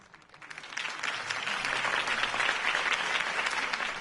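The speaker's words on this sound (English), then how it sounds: "If only Mr. Wayne, my campaign's largest backer, could have heard that applause" A crowd at a political campaign rally in the Batman Telltale video game breaks into applause, rising quickly from quiet to a steady, full clapping wash that holds at moderate loudness.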